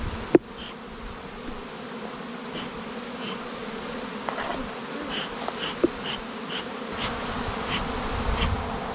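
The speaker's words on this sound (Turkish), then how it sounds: "Şu anda arılar oğul vermiş. O oğlu toplamaya çalışıyoruz." A dense swarm of honeybees collected from a tree buzzes continuously, individual insects droning past up close over the steady hum, with a few faint knocks.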